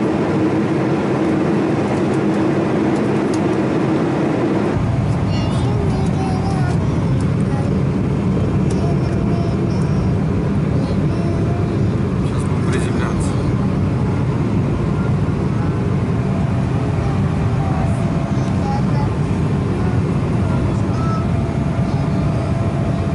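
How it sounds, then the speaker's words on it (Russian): An airplane taking off, heard from inside the cabin: a steady, loud, broadband roar that swells a few seconds in and holds for the rest of the clip. "Катя, ну что, взлетаем на самолете?"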